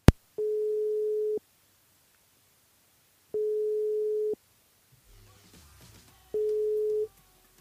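Three steady telephone line tones, each about a second long with pauses between, sound while a radio station's switchboard is being called. A brief rustle and faint noise fill the gap before the last tone.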